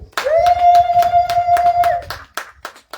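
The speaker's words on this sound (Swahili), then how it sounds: "Piga makofi kwa Bwana Yesu" A church congregation clapping in a quick, steady rhythm, loud and close, while a voice holds a long sung note over the claps.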